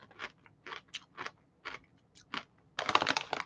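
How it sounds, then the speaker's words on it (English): Loud, crisp crunches from chewing a salted, cooked, dried-out fat snack, arriving in about eight short bursts at an irregular pace and ending in a denser, longer crunch, close to the mic with no talk. "listen to that crunch."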